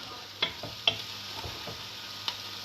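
Onions fry on high heat in a pan with a soft, continuous sizzle, broken by a few clicks of stirring and scraping. The sound is close and quiet, and no one speaks.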